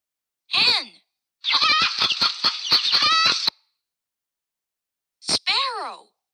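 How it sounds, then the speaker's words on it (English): A hen clucks and cackles in a loud, close burst of rapid repeated notes, with a shorter call before it and another call after a pause. "Hen."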